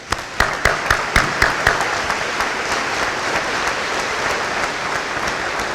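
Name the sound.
audience applauding the graduates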